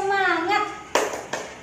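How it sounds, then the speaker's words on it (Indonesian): A teacher's voice speaks briefly, then two sharp hand claps ring out close and alone in a spirit clap from a primary-school religion lesson. "Tepuk semangat."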